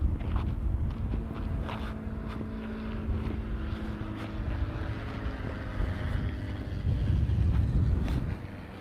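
Steady wind buffets the microphone in a low, continuous rumble, swelling louder near the end, with faint scuffing steps underneath.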